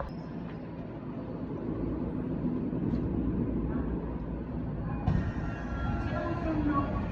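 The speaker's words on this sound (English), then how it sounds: "I'm just getting on the train" A train near Kanda station in Japan rumbles steadily, with a low continuous roar of a carriage in motion and a brief clunk midway.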